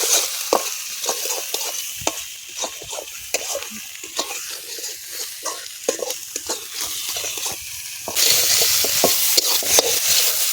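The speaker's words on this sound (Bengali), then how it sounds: "সব একসাথে দিয়ে দিলাম, ভালো করে নেড়ে নেবো।" Spices with sugar, salt and chili powder stirred and sizzling in hot oil for paneer malai curry in a village kitchen, a continuous close frying hiss with scraping stir strokes and no talk.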